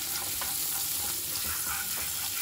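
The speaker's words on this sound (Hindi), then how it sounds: "अब डालेंगे हरी मिर्च, अदरक, इनको 1 मिनट के लिए भूनेंगे अच्छे से।" Green chillies and ginger frying in oil with crackled cumin seeds for a Mughlai dum aloo, a steady close sizzle with faint crackles throughout, no voices.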